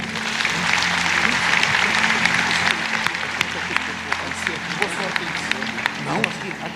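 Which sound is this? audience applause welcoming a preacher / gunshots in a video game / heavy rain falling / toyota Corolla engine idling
audience applause welcoming a preacher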